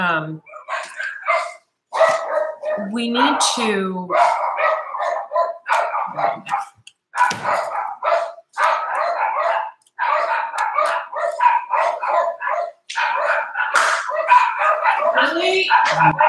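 Dogs bark repeatedly and excitedly, yipping and whining in overlapping bursts, with a person speaking briefly amid the noise.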